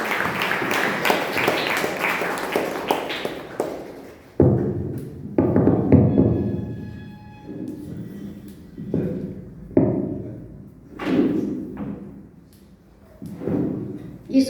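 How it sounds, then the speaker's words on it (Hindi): A seminar audience at a Bhagwan Mahavir Siddhayatan gathering claps loudly and densely to welcome the chief guest. The applause then gives way to thuds and a speaking voice. "सभी लोग जोरदार तालियां बजाकर"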